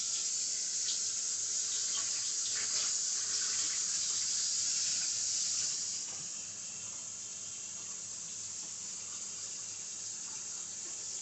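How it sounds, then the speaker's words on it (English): Water runs steadily from a kitchen tap as hands are washed beneath it, a broad continuous hiss that stays loud, then drops slightly in level partway through with no talking. "let me wash my hands right quick"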